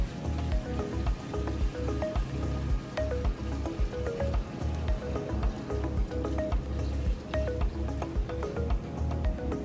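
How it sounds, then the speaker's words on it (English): Salt water poured into an aquarium sump, a continuous splashing and trickling stream with scattered drips, steady and close throughout with no talking. "So we just wanna add some salt water back to that sump."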